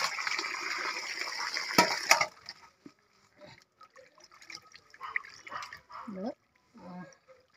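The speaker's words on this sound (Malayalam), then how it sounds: "നമ്മൾ ഒന്നുകൂടെ മീൻ കഴുകി നമ്മൾ വൃത്തിയാക്കി നല്ലോണം വാരിയെടുക്കുക." Water splashes and sloshes loudly at first as fish is washed, then quieter wet handling noises and clinks follow, with a brief voice near the end.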